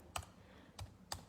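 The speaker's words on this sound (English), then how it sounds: "You type in Tjhoko Paint" Three separate clacking keystrokes on a computer keyboard, quiet and close, are spaced unevenly with short pauses between them.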